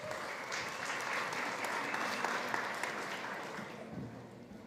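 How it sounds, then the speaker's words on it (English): A summit audience at SXSW gives a big round of applause to a food-industry CEO, a steady, full roar of clapping that swells and then slowly tapers off. "Give him a big round of applause"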